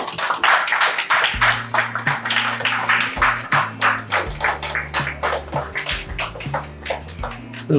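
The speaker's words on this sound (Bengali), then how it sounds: "সবাই হাততালি দিয়ে আমরা সহযোগিতা করব" A crowd claps at the inauguration of a new studio and offices, rhythmic bursts of hand claps pulsing steadily over a sustained droning tone, close and fairly loud.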